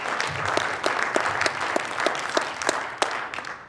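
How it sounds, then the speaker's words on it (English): Audience at a Martin Luther King Jr. birthday celebration applauds a group of visiting students, a short burst of moderately loud, dense clapping from a room full of people with sharp individual claps standing out. "you can clap for them"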